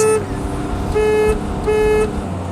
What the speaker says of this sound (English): Pathetic horn. I mean, listen to that.